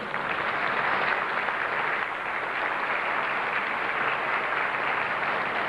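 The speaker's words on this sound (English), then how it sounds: "Thaksin deserves, the Prime Minister Thaksin deserves a great round of applause." An audience applauds steadily, a dense, even wash of clapping that holds at moderate, slightly distant level throughout, with no voices rising above it.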